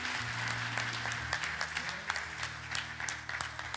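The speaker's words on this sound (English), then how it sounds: "Clap your hands for the word." A church congregation applauding during a sermon on money, a sustained wash of many hands clapping at mid distance over a low musical hum, with faint voices underneath.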